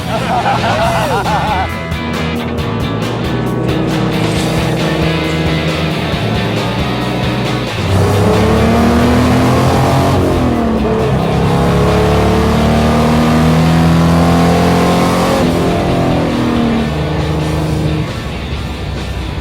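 A 24 Hours of LeMons race car engine revs hard on the track, rising and falling through gears in loud, close pulls that run the full length, with other sounds mixed in throughout.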